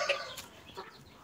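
A black caipira hen clucking in a few short, close calls, with no talk over them.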